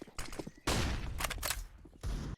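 Bursts of decoy grenade fake gunfire in Counter-Strike, several loud crackling volleys of simulated shots separated by brief gaps, close and dominant.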